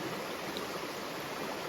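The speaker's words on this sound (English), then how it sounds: "I just have water spraying out" A steady, hissing rush of water spraying under pressure from a hole in a water bag on the Appalachian Trail, continuous and close, with no pauses.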